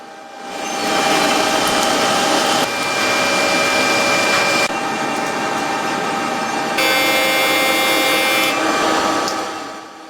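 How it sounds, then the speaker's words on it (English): Factory cutting machines with razor-sharp blades slice cured rubber tubes into rubber bands in Japan, a loud steady whirring drone with abrupt shifts in tone, no voices. "Once cured, tubes are mounted on machines with razor-sharp blades."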